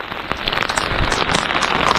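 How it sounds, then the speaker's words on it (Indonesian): Heavy rain pours on an exposed mountain trail past the fifth post toward the summit of Gunung Kembang, a loud, dense patter with sharp individual drops striking close by, steady throughout with no voices. "Ini hujannya makin lebat."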